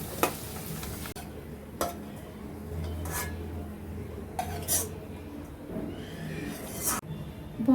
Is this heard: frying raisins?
yes